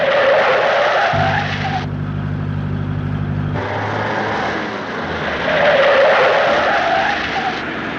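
A car driven hard, tires skidding and squealing loudly in long sweeping bursts over a rough engine roar, with a low horn-like drone in the middle.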